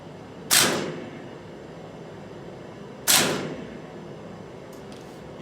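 Two sharp gunshot-like cracks, a few seconds apart, come from a VR video shooting training simulator. Each crack is close and decays quickly against a quiet room background.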